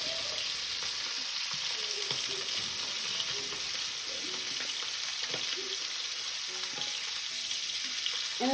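Steak sizzles in a pan with oil and butter, a constant close frying hiss running throughout, fairly quiet, with faint clinks and movement in the background but no speech.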